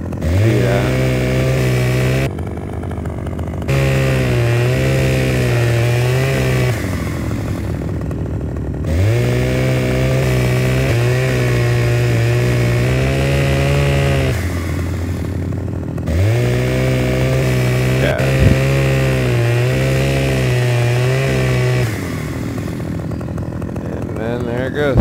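A chainsaw in Farming Simulator 2015 cuts a tree in repeated bursts: a loud, steady motor whine revs up for a few seconds, drops off, then returns three times, with a person talking intermittently in between.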